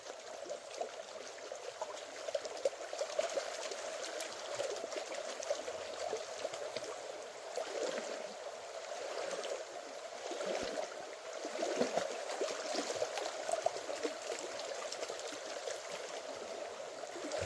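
Swift stream water rushing and gurgling steadily at a gold panning spot, a continuous broadband wash with small splashes and trickles rising and falling, fairly quiet and close, with no voices.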